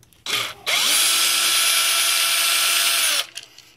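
Power drill backing screws out of the tough plastic chassis of an X-Maxx RC truck: a short burst, then a steady high whine lasting a few seconds before stopping, close and loud.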